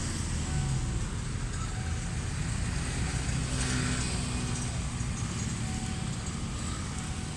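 A yellow-faced GEA diesel locomotive, number 4558, hauling Bangkok–Lopburi suburban train 301 across the Nakhon Chai Si road level crossing, making a loud, steady engine rumble and a wide roar that holds throughout, with no voices.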